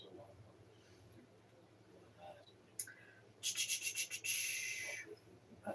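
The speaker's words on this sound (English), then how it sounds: "I'm going to actually do a lot of grating" Cabbage is grated with a quick run of rhythmic scraping strokes, a brief rasping burst followed by a steadier scrape, fairly close, after a quiet kitchen lull.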